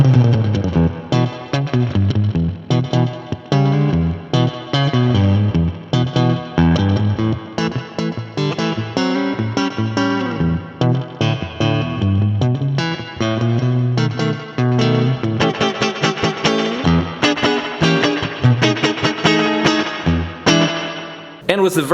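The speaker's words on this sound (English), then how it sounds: "With reverb at 9 o'clock, you are now soaking wet." An electric guitar played through an old amp with heavy spring reverb turned up, with distorted, rockabilly-style phrases washing into a wet, echoing tail between plucked notes.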